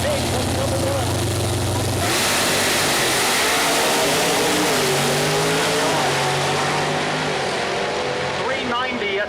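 A Pro Mod door-slammer drag car launches at Mooresville Dragway in a heads-up race, its loud engine roar climbing in pitch and holding steady while an announcer talks over it.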